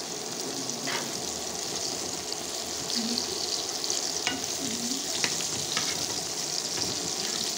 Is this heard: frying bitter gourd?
yes